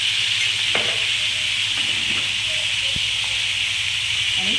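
Red chili powder sautéing in a pan for dangrachi bhaji gives a loud, even hiss of frying close by, with faint stirring scrapes now and then.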